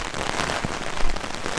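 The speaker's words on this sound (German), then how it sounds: "regnet es." Rain falling steadily in the morning at a campsite in Tönning, Schleswig-Holstein, a dense, even patter close by with no talking.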